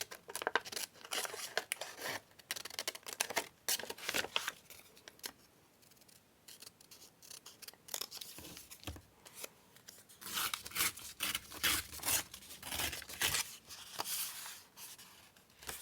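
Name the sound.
scissors cutting out paper tickets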